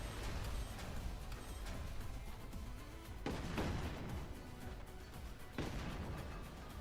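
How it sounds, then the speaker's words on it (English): Dense, continuous barrage of gunfire and artillery-like blasts from a Forts real-time strategy battle with many shotguns firing, constant and loud, with sharper bursts standing out. "That's just so many shotguns."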